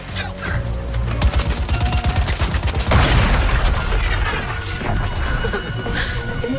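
Rapid bursts of automatic gunfire crackle loudly at Joker in the Suicide Squad video game, dense rattling volleys punctuated by a heavy crashing impact midway, with no talk over them.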